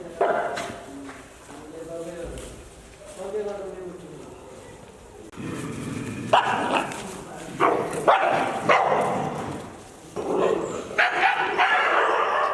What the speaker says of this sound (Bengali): ওরা এইভাবে চিৎকার করে কাছে চলে আসে